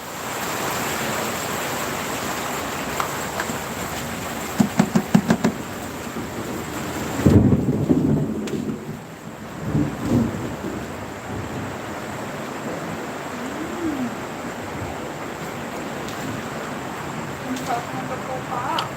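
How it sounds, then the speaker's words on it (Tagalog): Heavy rain pours in a steady, loud hiss, and thunder rumbles in deep rolling bursts partway through, with a few sharp clatters before it. "Ayan guys, sobrang lakas ng ulan."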